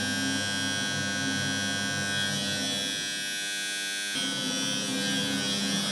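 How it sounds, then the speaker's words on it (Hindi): A washing machine alarm gives a steady electric buzzing tone, loud and continuous, with a slight shift in pitch partway through. "वॉशिंग मशीन का अलार्म बज रहा है।"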